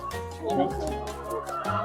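Laying hens cluck close by in short bursts while a person talks over them.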